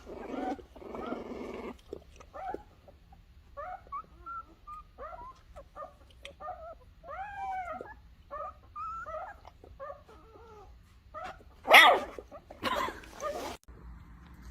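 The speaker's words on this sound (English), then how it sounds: "Puppy's first bark knocked himself over." Young puppy giving a series of small yips and whimpering barks in quick succession, fairly close, with a louder burst near the end over a low background hum.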